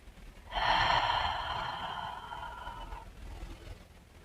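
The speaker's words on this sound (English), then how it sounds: "Inhale, nice and deep here for a couple of deep breaths." A long, deep audible inhale taken while holding a yoga warrior pose, close and clear, swelling quickly and then slowly fading over about two and a half seconds.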